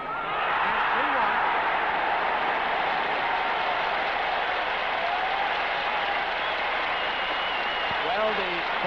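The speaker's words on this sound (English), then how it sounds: "the Burnley supporters booing" A 1962 Spurs versus Burnley football crowd boos after a penalty goal, giving a broad, sustained roar of disapproval from a large stadium with a commentator speaking over it.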